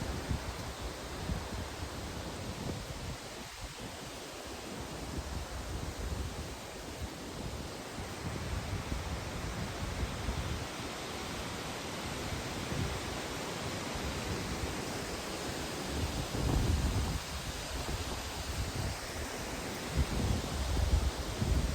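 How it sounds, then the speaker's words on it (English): Wind blowing steadily through trees in the woods beside a soybean field, a broad continuous rushing hiss with gentle swells and no voices. "the wind coming through this tree is just amazing to sit here and listen to"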